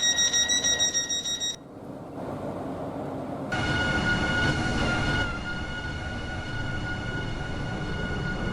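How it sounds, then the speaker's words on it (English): A Class 331 electric train in the Stepford County Railway video game runs with a continuous mechanical hum and rumble, preceded by bright sustained tonal chimes that cut off, then a steady whine continues to the end. "This is a connect train to Stepford UFC."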